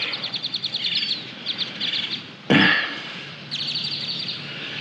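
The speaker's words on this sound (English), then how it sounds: "That's the sound of a peacock." Peacocks call from across a muddy river, several birds together: bursts of bright, rapid repeated call notes in short runs, broken midway by a sudden loud, broad rustling burst, over a steady outdoor background.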